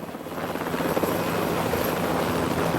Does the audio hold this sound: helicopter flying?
yes